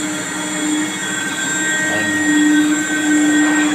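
A wire cut machine runs with a loud, steady mechanical drone layered with high whining tones, holding a constant level throughout.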